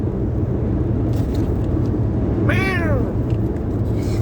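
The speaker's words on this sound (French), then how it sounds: "Il y a un chat dans la voiture." A cat meows once inside a car, a single drawn-out, falling cry over a steady low engine and road rumble.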